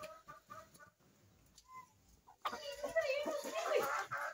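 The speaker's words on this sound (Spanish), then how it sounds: "Aquí están también las pollas, las hijas del gallo negro, ya están ya haciéndose gallinas." Young hens, daughters of a black rooster, clucking softly on a farm, with quiet calls at first and then a louder, busier stretch of clucks and chatter in the second half.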